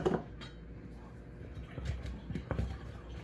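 Potato wedges get tossed and mixed in a bowl, giving soft scattered clinks and scrapes of a utensil against the dish, quiet and close with a few sharper knocks.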